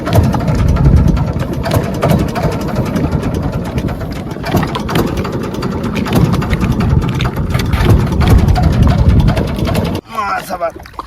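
A boat engine drones steadily and loudly on the Bidyadhari River. The low, rumbling hum stays constant for about ten seconds, then cuts off abruptly near the end, and faint voices may be present in the background.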